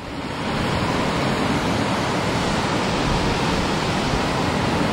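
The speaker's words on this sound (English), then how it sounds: "why wait at the laundromat and charge my batteries when I could go look at this beautiful ocean" Ocean waves wash steadily onto a beach in a continuous, loud roar of surf that fills the whole stretch, with no voices.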